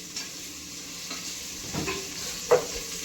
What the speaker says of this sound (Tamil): வெங்காயம் நல்லா கோல்டன் ப்ரௌன் கலரில் வர வரைக்கும் வதக்கி